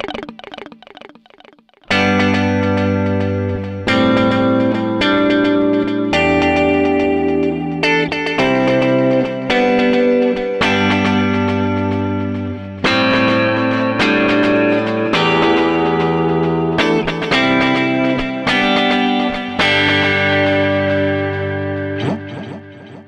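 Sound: Fender Player Plus Telecaster through a stereo effects preset

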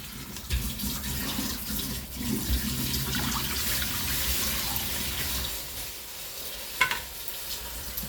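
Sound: water being poured into a cooking pan

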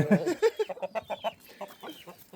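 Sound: chickens clucking

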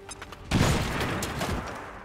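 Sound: grenade explosion, from the video game XCOM 2

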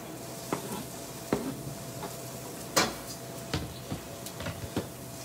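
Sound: chopped onions and peppers sizzling in a hot oiled pan

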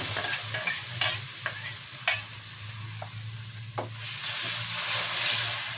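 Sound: tomato puree stirred into frying pan

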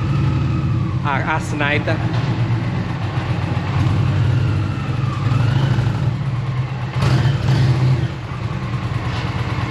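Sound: Indian Challenger Dark Horse motorcycle engine running

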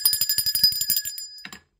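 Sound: bell ringing sound effect

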